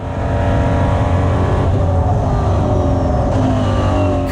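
A EuroNASCAR race car accelerates hard out of a corner during a race at the Italian GP, its engine roaring loud and close from the cockpit, with the pitch climbing through the gears and no talk over it.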